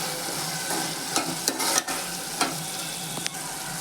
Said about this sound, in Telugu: ఒకసారి కలిపేసుకొని దించేసుకుందాం